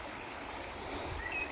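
River flowing through a forest, a soft, continuous rushing wash of water, faint and steady without distinct splashes and with no voices.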